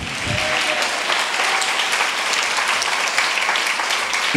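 A church congregation claps loudly and continuously, a dense sustained wash of applause with no pauses, some voices faintly mixed in.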